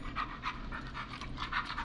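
A dog pants in the video game Killer Frequency, rapid rhythmic breathy huffs repeating steadily, close and moderately loud with a faint low hum beneath.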